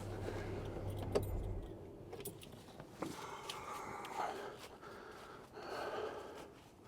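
Keys jangle faintly near an Ineos Grenadier as it is switched off, with a low engine hum ending early, followed by soft handling noises, breaths and light movement.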